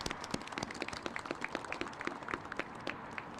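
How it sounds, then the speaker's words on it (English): An audience at a Sound Transit announcement for the Bellevue–Seattle crosslake line gives a round of applause: dense, steady clapping, fairly faint and distant, sustained with no talk over it. "Please give them a round of applause"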